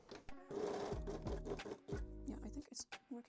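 A home sewing machine stitches elastic onto a bikini top seam in short whirring bursts with brief pauses between them, while someone talks quietly over the stitching.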